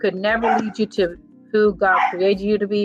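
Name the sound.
dog barking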